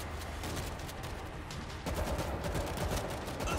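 Rapid gunfire from the co-op zombie shooter World War Z, a dense sustained burst of shots that grows louder partway through, with no talk.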